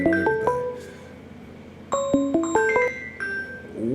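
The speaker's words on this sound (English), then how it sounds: "I gotta cut this ringtone off." A phone ringtone plays as a bright chiming melody of rising and falling bell-like notes, in two loud phrases with a short gap between them.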